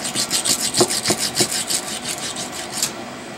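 A coarse diamond lapping stone rubs back and forth across a hardened lathe chuck, producing a rhythmic series of close, gritty scraping strokes that fade out near the end.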